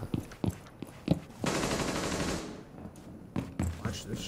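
Gunfire in the video game Rainbow Six Siege: a few sharp single shots, then a sustained automatic burst of about a second, followed by more scattered shots, loud and close.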